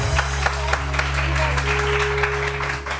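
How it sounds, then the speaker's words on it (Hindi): A studio audience on a Pakistani morning TV show applauds, a steady patter of many hands clapping with a low hum underneath and a few sharper individual claps. "तालियां जी।"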